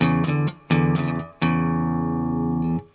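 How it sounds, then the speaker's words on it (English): Electric guitar plays a straight blues rhythm pattern: two short choppy phrases, then a long sustained ringing chord, close and clear. "I'm just gonna play a straight blues rhythm pattern like this."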